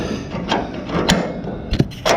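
A ratchet wrench turns a bolt during reassembly of a 1977 Pontiac Trans Am, giving a few close, sharp metallic clicks spaced irregularly over two seconds.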